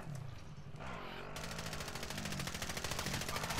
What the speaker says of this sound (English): Nope, I'm getting shot at still.